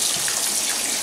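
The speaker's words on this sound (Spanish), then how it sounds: "hemos puesto las judías del bote en un escurridor. Y lo primero que vamos a hacer es lavarlas" Canned beans being rinsed under running tap water in a colander, a steady close rush of water with no talking.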